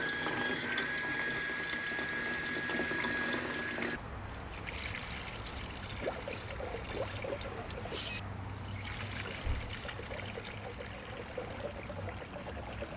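Water poured into the cooling system of a 1998 Mustang GT SN95 makes a steady, continuous splashing rush. The flow changes character after the first few seconds, and no voice is heard.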